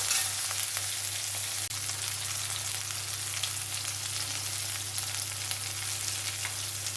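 Small onions and green chili sautéing in a pan for a broad beans curry, continuous close sizzling and crackling with occasional stirring scrapes, no voices, steady throughout.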